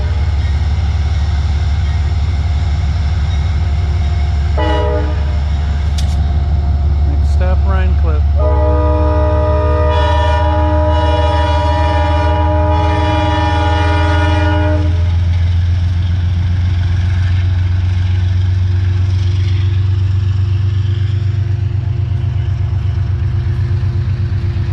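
A train at the Hudson, New York station rumbles loudly and steadily over the whole stretch, its horn sounding in a few short blasts and then a long sustained chord, with faint voices in the background.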